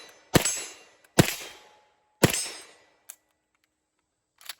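Three loud, sharp gunshots from a POF-5 MP5 clone rifle ring out at uneven intervals, each ringing off briefly, followed by a couple of faint clicks.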